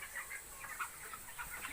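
Broiler chickens about 21 days old cluck and chatter softly in a poultry house, a faint continuous flock murmur with scattered short calls.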